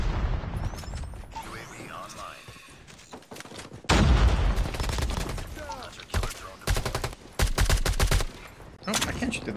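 Rapid BK57 assault rifle fire in a multiplayer shooter video game cracks out in loud, dense bursts separated by short pauses, with a few heavier booms mixed in and a player's voice talking over the action.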